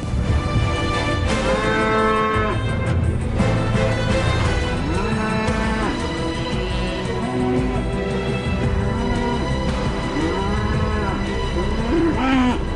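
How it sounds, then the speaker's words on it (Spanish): A bull and his herd of cows in a field moo repeatedly, with long, overlapping lowing calls rising and falling throughout, loud and steady with no talking. "el toro, junto a su lote de vacas que siempre le acompañan a todas partes"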